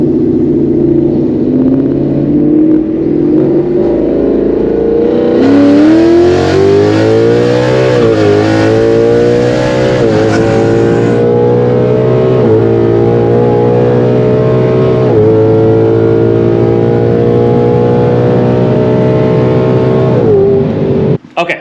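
A Ford Mustang running on E85 accelerates hard from 60 to 130 mph, its engine loud and close, the pitch climbing steadily through the gears with brief shifts between them, filling the clip on its own.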